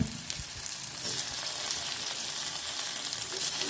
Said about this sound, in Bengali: পেঁয়াজটা আমার একটু ভাজা হয়ে গেছে এর ভিতরে আমি টমেটো কুচিগুলো দিয়ে দেব